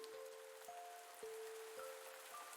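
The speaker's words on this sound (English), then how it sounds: "It's raining again." Steady, faint rain hiss falls in the farming game Pumpkin Days and runs unbroken throughout, with soft game tones layered above it.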